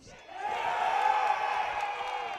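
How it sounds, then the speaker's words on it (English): At a college baseball game between Tufts and Brandeis, the crowd roars for senior player Lucas Gustafson, a broad cheer that swells quickly and holds loud and sustained, with whoops mixed in. "the roar of the crowd has proven me right"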